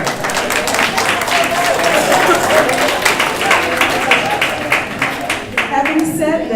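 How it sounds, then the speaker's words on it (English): Audience applause at a youth speaking contest, a steady wash of clapping from a crowd filling the room for several seconds, with some voices and murmurs mixed in near the end. "Give him a round of applause."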